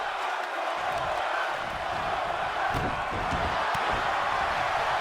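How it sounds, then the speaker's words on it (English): A wrestling arena crowd roars and chants steadily at a wrestling event, a dense continuous wall of voices with occasional thumps and shouts, loud and unbroken throughout. "You hear the crowd chanting one more time"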